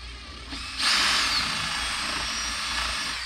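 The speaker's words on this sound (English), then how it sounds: "We're going to open them up a little bit with our drill." A power drill whirs steadily while enlarging the centering holes in a 1997 Jeep Wrangler TJ dash switch panel, starting softly and then running loud and close for about three seconds.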